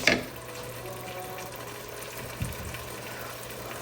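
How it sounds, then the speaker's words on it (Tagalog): Water is poured into a cooking pot in a home kitchen, a steady rushing splash that runs throughout at moderate level over a low background hum, with one brief louder slosh partway through. "Lalagyan mo ng tubig to"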